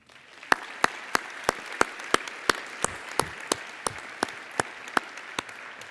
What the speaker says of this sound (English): I think that your professor and the whole IUM team deserve some applause for this